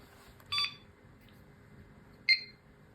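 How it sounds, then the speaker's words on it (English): A Supermicro X11SCL-IF server motherboard gives two short, clear electronic beeps about two seconds apart at power-on, over a quiet fan hum. "Now we need to wait for a beep."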